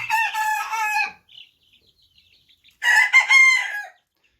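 Cochin bantam roosters in a separate pen crow twice, each call a loud, close, drawn-out cock-a-doodle-doo, with near silence between them.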